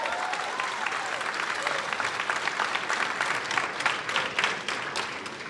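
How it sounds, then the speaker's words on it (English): A crowd claps steadily through a round of applause at a political rally for education funding, dense and continuous with a few louder individual claps near the end and faint voices underneath. "So give yourselves a real great round of applause."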